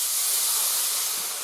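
Half a cup of water poured into a pan of cooking lime pickle sets off a loud, continuous steamy hiss that fades slightly toward the end.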